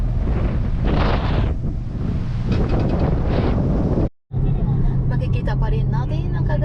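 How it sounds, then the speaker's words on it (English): Strong wind buffets the microphone on the Pacific Ocean shoreline at Chita, Japan, near a ferry to Himakajima Island, making a loud, continuous roar with a brief dropout, and a faint voice is heard under it. "It's a little bit windy here."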